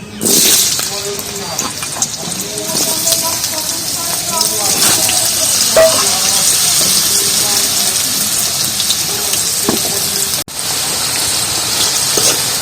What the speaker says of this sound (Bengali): এই গরম তেলে কিন্তু আলুটা একটু ভেজে নেবো